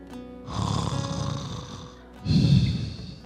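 A voice imitates snoring, acting out a sleeping person in a sermon: two loud, rasping snore strokes, each about a second and a half long, with a short pause between them.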